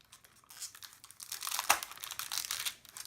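Washi tape peeled off its backing while making watercolor Christmas gift tags, a quiet crinkly tearing rustle that builds steadily over a few seconds with no talk.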